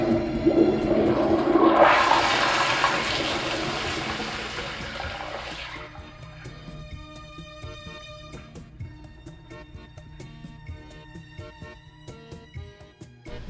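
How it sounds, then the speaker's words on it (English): A Kohler toilet flushes with a loud rushing surge of water that fades after a few seconds into a quieter trickling refill with faint ticking drips. "and it flushes subtly."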